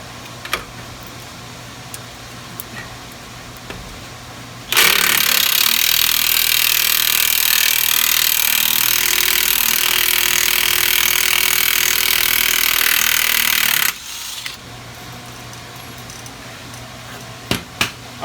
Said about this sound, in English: So we're going to go ahead and use the impact on that, see if we can get it loose.